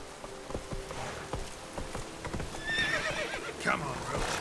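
Roach the horse trots in The Witcher 3, hooves clip-clopping in a quick irregular rhythm at moderate distance, with a brief whinny and a voice over the steps.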